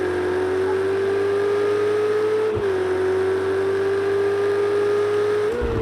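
A race car accelerating hard at Spa in the racing game Project Cars 2: a loud, continuous engine whine climbing in pitch, with a brief dip at a gear change midway and another shift near the end.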